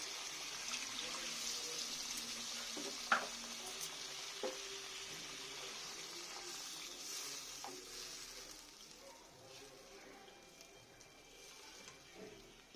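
Katla fish posto curry frying in a pan, a steady soft sizzle with occasional clinks of a spoon, fairly quiet and continuous with no voices.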